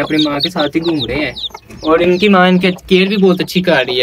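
A hen clucks softly beside her chicks in a farmyard, her calls running under continuous close-up talk from a man.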